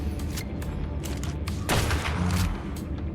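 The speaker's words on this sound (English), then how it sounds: "let's just see if we can take any of these bats out with the rifle." Rifle fire in the video game Ark, aimed at bats: a short burst of sharp, booming shots with mechanical clicks and creaks between them, the loudest report near the middle.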